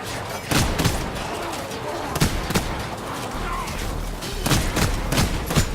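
Gunshots from a crit-shot weapon in the co-op fantasy game Warhammer: Vermintide 2, several sharp loud reports spaced unevenly over a busy, rumbling combat din.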